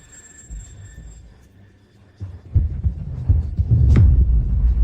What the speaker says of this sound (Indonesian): itu detak jantung